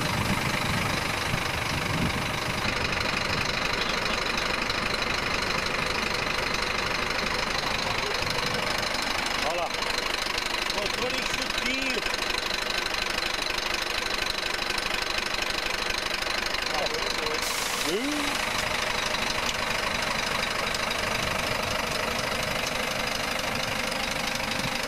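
A truck engine idles loudly and steadily before departing from a town square, a constant heavy rumble with knocking throughout, while people talk faintly beneath it.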